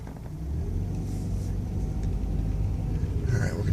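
A 1997 BMW 318 E36 pulling away from a curb, its engine a low steady rumble that builds slightly as it moves, heard from inside the car with road noise and no talking.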